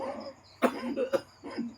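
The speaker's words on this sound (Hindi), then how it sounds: "खांसी आ रही, बिल्कुल सही कर रहे" A few short coughs in a quiet room, three brief bursts spaced under a second apart, faint and close.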